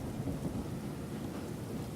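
A thunderstorm rumbles low and steady with rain falling throughout, a dense continuous wash of sound at a quiet level with no talking.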